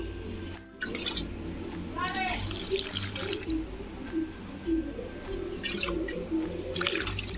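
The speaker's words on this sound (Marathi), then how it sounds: "त्याच्यामध्ये मी पाणी टाकते आता" Water poured from a vessel onto broken tamarind pieces to soak, a close, continuous splashing trickle that rises and falls, with someone talking over it.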